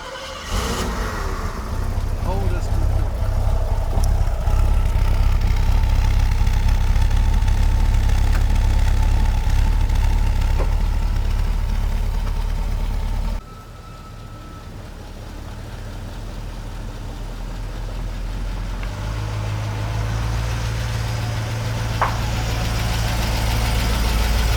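A 1970 Mercedes 280 SE 3.5 Coupé engine running smoothly, loud and close at first, then a sudden drop to a quieter, steady idle that gradually swells again.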